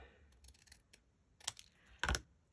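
Scissors snip through card with a few soft cuts, then two sharper, louder crunching cuts close by, separated by quiet pauses.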